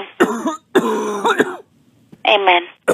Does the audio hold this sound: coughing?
yes